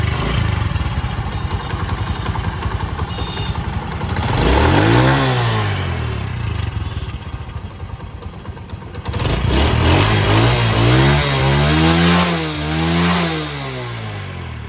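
A 2014 Honda CD motorcycle, ten years old, idles with a steady putter, then revs up twice in rising and falling sweeps, with a longer double rev in the second half, loud and close.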